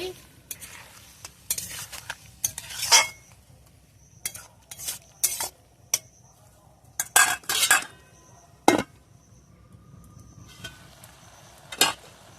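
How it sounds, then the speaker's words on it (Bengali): Pumpkin stems cooking in a pan with water are stirred, giving scattered scraping and clinking strokes of a utensil against the pan over a faint simmer, with quiet gaps between bursts and no talking. "ভালো করে নেড়ে নিচ্ছি"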